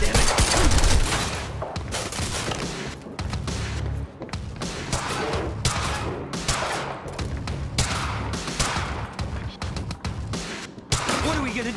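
Dense bursts of automatic gunfire and rapid shots crackle throughout a Quantum Break firefight, loud and close, with voices shouting over the shooting.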